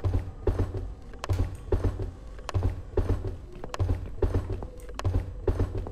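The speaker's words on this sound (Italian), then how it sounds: "È il macchinario che si è messo in moto." Game machinery starts up with rhythmic mechanical clunks and creaks repeating at a steady pace, close and fairly loud, with no talk over it.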